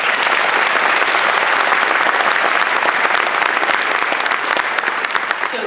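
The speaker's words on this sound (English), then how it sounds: "they deserve one more round of applause" Large crowd at a high school graduation ceremony applauds, a loud, thick, uninterrupted roar of clapping that holds steady for several seconds.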